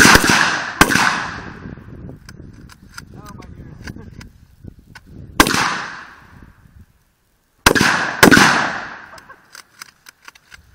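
A firing line of guns shooting at a watermelon outdoors: several loud, sharp volleys, some as near-simultaneous double cracks, with echoing decay between them and people talking in the gaps.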